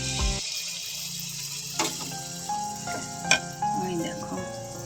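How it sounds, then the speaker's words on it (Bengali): Bengali pitha rice cakes fry in a pan, a steady close sizzle with a few sharp clinks and scrapes, while a person talks over it. "পিঠেটা ঢেলে দিল আর এতগুলো পিঠে ভাজলো মশাই আমার"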